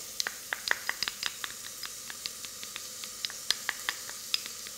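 Chili hits a hot pan of browned onions for a curry sauce, a steady hiss of sizzling broken by many quick crackles and pops throughout.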